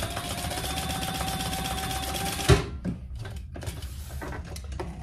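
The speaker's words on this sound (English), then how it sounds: "So now we're gonna just sew across the top here." A sewing machine stitches across the top of a fabric hip bag, a fast steady mechanical whir that stops abruptly halfway, followed by faint handling clicks and quieter stops and starts.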